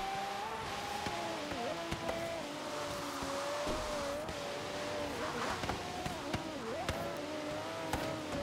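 A car engine in the racing game Forza Horizon 3 pulls hard under acceleration, its whine rising and dipping through gear changes, with faint tire squeals and clicks over a low steady drone.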